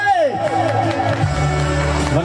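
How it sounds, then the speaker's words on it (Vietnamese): Wedding guests at an evening reception applaud and cheer for the bride and groom, a dense crowd roar of clapping and voices swelling around a sweeping tone, loud and continuous throughout. "Trường cưới chúng ta sẽ nổ một tràng vỗ tay thật đồng nhiệt, thật tỏa tán nữa để cùng chúc mừng cho cô dâu và chú rể ngày hôm nay"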